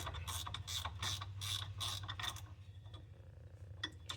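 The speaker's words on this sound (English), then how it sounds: "Pop the bleeder out of it real quick." A ratchet wrench turns to remove the rear drum brake bleeder screw on a 1981 Chevrolet Chevette, giving a rapid series of close, loud ratcheting clicks in bursts that then give way to quieter faint clicks.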